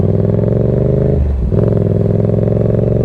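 A motorcycle idles and putters steadily on a licence test course while making a U-turn, engine close and loud, with a brief dip and rumble midway as it turns.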